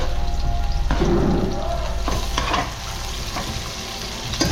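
Garlic, onion and ginger sautéing in a hot pan, a loud close sizzle with bursts of stirring and a sudden crackling flare as ingredients hit the oil, easing to a steadier fry.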